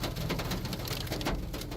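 Steady heavy rain from a severe storm with hail pours down as a dense, continuous wash of drops on surfaces, loud and close with no talking.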